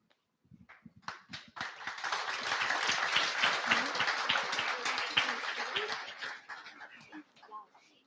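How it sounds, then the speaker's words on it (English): A classroom audience breaks into a round of applause, many hands clapping together, building quickly and holding steady for several seconds before tapering off, heard at moderate distance. "Please have a round of applause."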